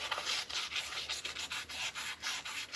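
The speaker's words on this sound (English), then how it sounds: "I've also got this little cut of 400 grit sandpaper that I've been keeping wet" Wet sanding a part from a 1974 Vespa Rally 200 scooter with a small piece of 400-grit sandpaper gives a close, steady rhythm of rasping back-and-forth strokes with no voices.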